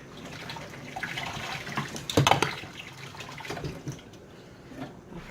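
Tap water runs over a handful of fresh cilantro leaves at a kitchen sink, a soft steady splashing with a brief louder burst as the herbs move under the stream, no talking.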